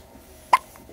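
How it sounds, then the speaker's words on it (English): A baby hiccups once, a single sharp, close gulp in a quiet room, followed by a faint softer catch. "So she's laying in my lap, hiccuping like a crazy girl."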